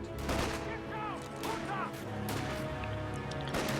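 Rapid gunfire from Company of Heroes 2 during a US versus OKW match, with repeated sharp shots and bursts crackling over a busy, continuous battle din and occasional heavier impacts.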